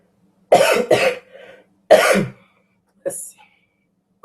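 Several harsh coughs in quick bursts, two close together, a softer trailing one, then another cough and a short throat sound, close and fairly loud.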